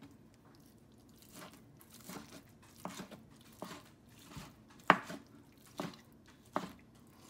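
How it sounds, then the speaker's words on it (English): Repeated sharp knife chops on a board while chopping and mashing raw tuna for sushi, irregular taps with a few louder thuds, close and fairly quiet, no talking. "So cut it into sides, and then you start sort of chopping and mashing."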